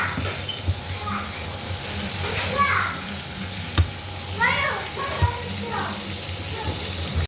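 Beef and koorkka are stirred into a pan of sizzling masala, with a steady frying hiss and a few scraping stirs and clinks, mixed with faint background voices.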